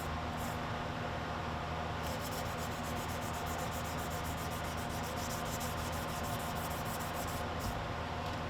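Sandpaper rubs back and forth by hand across a surface in steady continuous strokes, a close, dry, scratchy hiss with faint rhythmic pulses and no talking.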